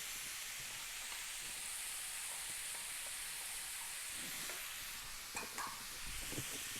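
Lebanese omelette mixture (ejjeh) with added corn frying lightly in a pan, giving a steady soft sizzle and hiss throughout, with a few faint utensil clicks and scrapes near the end and no talking.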